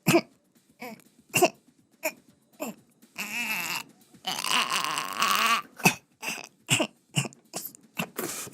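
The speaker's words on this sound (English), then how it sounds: "Keep coughing. Keep coughing." A run of short, sharp coughs comes in bursts with brief gaps, and a longer raspy, strained stretch sits in the middle. The coughing is close and loud with no talking over it.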